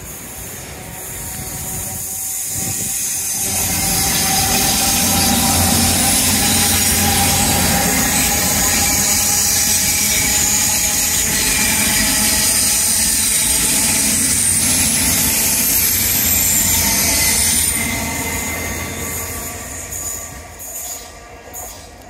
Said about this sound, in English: Always time to stop for another train, they're making a lovely noise.